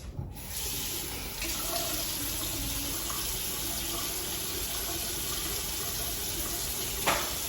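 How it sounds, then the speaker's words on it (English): Tap water runs steadily into a bathroom sink during face washing, a continuous close hiss and splash with a brief louder splash near the end. "I'm just gonna go ahead and wash my face."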